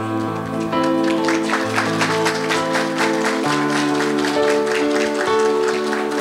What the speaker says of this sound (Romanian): pe părinți să-i aplaudăm